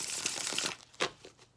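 A tarot deck is shuffled close by, giving a quick riffle of papery crinkling and flicking, then a couple of soft separate taps as the cards settle.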